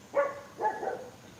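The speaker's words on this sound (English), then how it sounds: "Why are you barking at them?" A dog gives two quick barks close by, the second trailing into a brief yip, fairly faint and alone.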